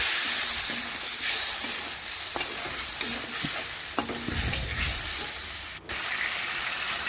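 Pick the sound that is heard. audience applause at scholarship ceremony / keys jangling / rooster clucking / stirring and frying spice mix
stirring and frying spice mix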